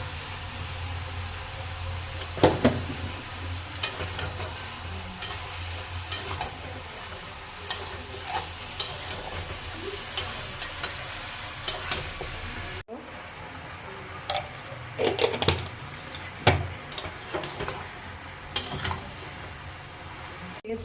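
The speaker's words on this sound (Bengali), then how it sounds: "চিকেনকে 3 মিনিট আমি কষিয়ে নিয়েছি।" Chicken fries with turmeric in a pan for a stew, a soft steady sizzle with intermittent scraping stirs, near but fairly quiet, and a brief cut partway through.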